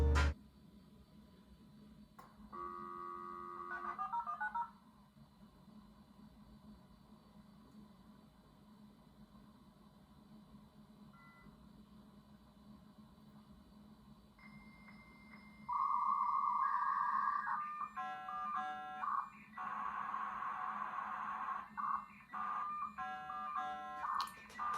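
A dial-up modem with Juno software dials out with tones, then screeches and warbles through its handshake, ending in bursts of static-like hiss, steady and fairly loud over a faint background hum.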